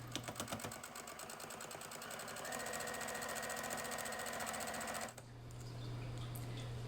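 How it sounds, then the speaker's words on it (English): A sewing machine stitches down the open sides of a washable fabric face mask, its rapid, even mechanical chatter running steadily for about five seconds before it stops and a low hum remains. "now we're going to sew completely down each of these open sides."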